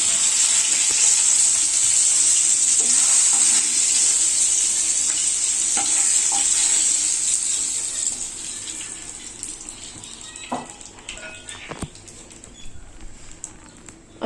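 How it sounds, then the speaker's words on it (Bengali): Rohu fish frying in oil, a bright continuous sizzle close by that gradually fades as pieces are lifted out, with light clinks of a utensil against the pan. "আমার মাছটা ভাজা হয়ে গেছে,"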